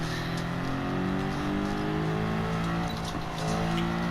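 A German car's engine drones steadily while racing around a track in a video game, a continuous loud whine with faint tire noise and no voices.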